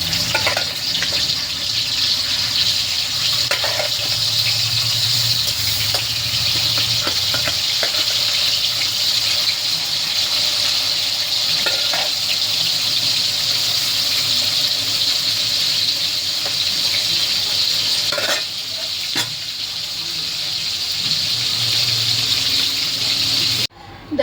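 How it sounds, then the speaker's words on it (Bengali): Fish belly pieces rubbed with salt and turmeric frying in hot oil in a wok, a steady loud sizzle and hiss lasting throughout with a few faint clinks and scrapes. "এই মাছের পেটিগুলো নুন হলুদ মাখানো এগুলোকে ভাজবো।"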